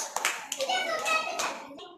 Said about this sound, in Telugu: అందరు ఒకసారి జావేద్ క్లాప్స్ కొట్టండి